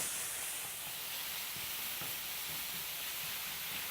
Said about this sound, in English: You want to keep it moving at all times because we're browning that meat evenly all over.